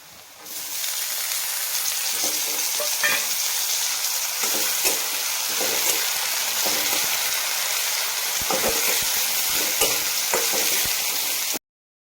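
Chopped tomatoes added to softened onion frying in a pan, a loud continuous close sizzle with occasional scraping stir strokes, running steadily for about eleven seconds before cutting off abruptly.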